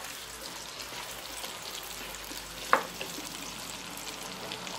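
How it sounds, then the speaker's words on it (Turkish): Zucchini and apples fry lightly in hot oil in a pan, giving a steady, soft, even sizzle with one small pop partway through; nobody talks. "kızgın yağma şimdi elmalarla kabakları attım. Hafiften kızartacağım."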